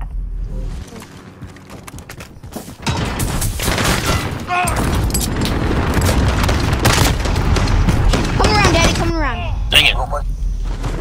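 Explosions and bursts of gunfire fill a Call of Duty Modern Warfare match, with booms and crackling shots that grow denser after a quieter opening, under game voices and player talk.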